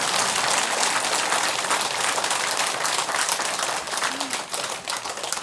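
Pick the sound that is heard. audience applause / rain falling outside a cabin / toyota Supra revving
audience applause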